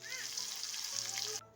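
Onion, potato and taro frying in oil while being stirred make a brief, faint, steady hissing sizzle that cuts off abruptly just before the end.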